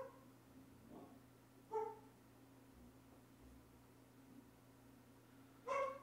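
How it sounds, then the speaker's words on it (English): A dog gives two short barks, each a clipped yip, spaced a few seconds apart against a quiet indoor hum. "my dog has decided to go off"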